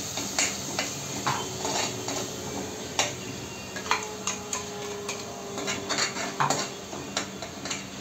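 An onion and coconut paste sautés in a pan for a mutton dish, with a low sizzle under frequent sharp clinks and taps of a spoon against the pan, close and uneven in rhythm.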